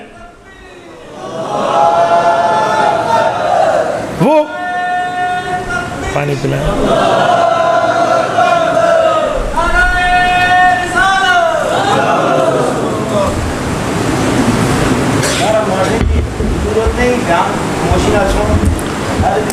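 A crowd at a religious gathering with a cleric chants slogans loudly in rising, pitched unison calls that repeat in waves, with a rumbling roomy background throughout.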